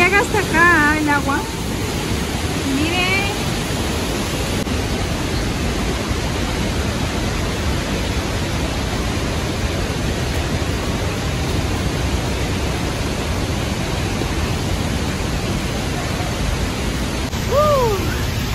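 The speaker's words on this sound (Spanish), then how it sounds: "¿Escuchan cómo suena el agua?" Roaring water at the Pailón del Diablo waterfall in Baños, Ecuador, recorded at night: a steady, dense, loud wash of falling water that fills the whole clip, with brief voices faintly over it.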